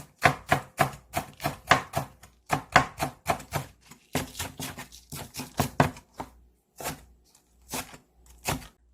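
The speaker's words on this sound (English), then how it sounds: "After washing it, let's cut like this. Let's cut spring onions." A knife chops spring onions on a cutting board in quick, close, sharp knocks, rhythmic runs of strokes with brief pauses, then a few slower cuts near the end.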